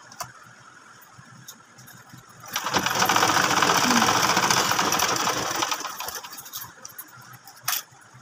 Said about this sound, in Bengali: চলো আমি সেলাই করে আসি।